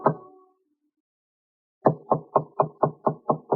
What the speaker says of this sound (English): knocked on the door.